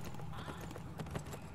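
A horse's hooves clip-clop steadily while riding in the Neverwinter video game, a quick, even trot of rhythmic thuds over a busy background mix.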